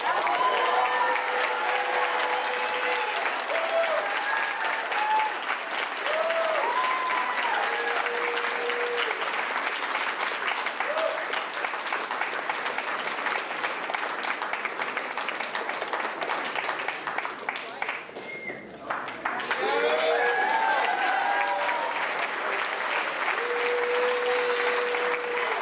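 Sustained applause from a large audience at an 8th grade graduation award ceremony, dense steady clapping lasting throughout with a brief dip midway, voices faintly mixed in beneath.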